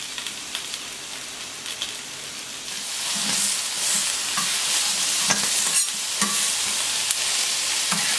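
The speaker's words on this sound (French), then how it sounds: "Voilà, les champignons, ça grille." Mushrooms sizzle while grilling, a bright, steady hiss of frying that swells after a few seconds, with occasional stirring clatters close by and no talk.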